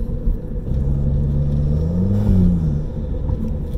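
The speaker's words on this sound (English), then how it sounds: "Y'all can hear all that good turbo noise" A Toyota Supra MK7 Launch Edition with its turbo engine is revved, giving a loud low rumble with a rising and falling engine tone, close by and with no voices over it.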